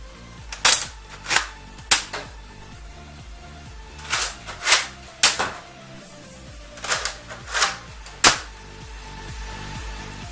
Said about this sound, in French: pour recharger, comme vous l'aurez déjà deviné, il faut prendre la poignée grise, la ramener vers soi et de la repousser, et après on tire.